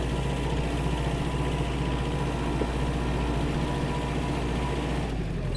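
A Japanese Mitsubishi MT-265 mini tractor engine running in four-wheel drive, a steady low diesel drone that holds even and close throughout with no speech.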